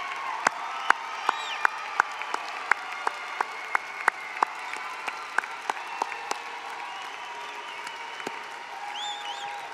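A commencement crowd applauds steadily, with sharp individual claps standing out over a dense bed of clapping and a few faint cheers, heard from within a large hall.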